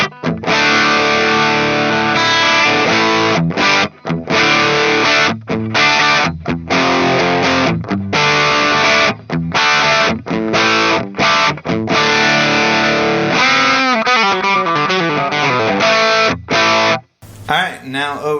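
Electric guitar on the bridge pickup plays a crunchy, overdriven rhythm part through a Greenback cabinet, loud and close with choppy chords and brief gaps between strums, no talking over it.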